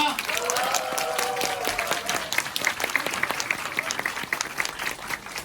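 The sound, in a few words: audience applause welcoming a speaker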